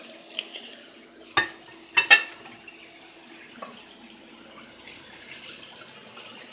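Water runs from a tap into a household sink as a child rinses her hands. The flow is a faint, steady wash, broken by a few sharp knocks and clatters nearby, and no one speaks.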